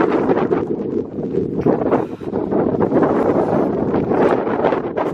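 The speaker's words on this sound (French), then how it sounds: "Je vais prendre mon anémomètre pour mesurer le vent parce que ça commence à souffler sérieusement." Strong, gusting thunderstorm wind roars and buffets the microphone continuously, a loud, rushing, turbulent noise that barely lets up.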